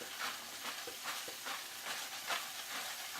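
A peppermill cracks black pepper over oiled mushrooms in a chicken scarpa pan, a run of short, dry, rhythmic grinding bursts, close and steady, with no talking.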